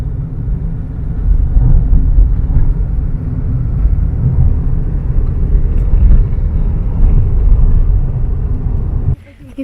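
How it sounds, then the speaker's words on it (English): Steady low road rumble of a car heard from inside the cabin while driving, loud and continuous throughout before cutting off abruptly near the end. "Okay, so we are traveling today by car."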